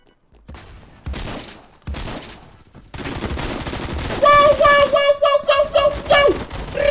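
Legendary shotgun gunfire in a video game: several loud blasts and bursts of shooting stack up over the game's music, with a rapid run of sharp shots near the end.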